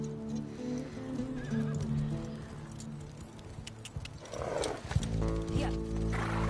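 Horses gallop with rhythmic hoofbeats in The Last of Us Part II Remastered, a whinny rising through the middle, over a backdrop of music and ambient game sound.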